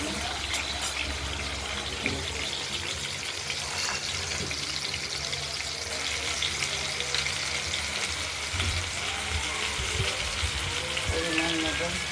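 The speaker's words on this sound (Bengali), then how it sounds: "আলুগুলো কেটে রাখা আলুগুলোকে প্রথমে একটু ভাজবো" Cut potatoes fry in oil seasoned with cumin, a dense, even sizzle close by that holds steady for the whole stretch, with occasional faint stirring ticks and light background murmur.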